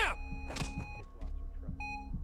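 An electronic defibrillator in the GTA video game emits a few short, clean beeps, moderately loud over a low rumbling background with scattered soft clicks.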